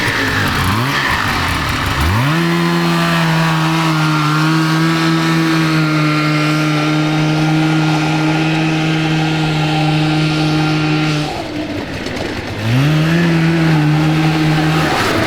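A 440cc two-stroke go kart engine revs loud and near, holding a long sustained high-pitched wail, dropping briefly, then revving up again.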